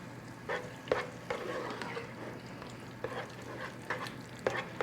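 Pumpkin puree being stirred into a soup pot, with soft repeated scraping and squelching strokes at an uneven pace, fairly quiet and close, no talking.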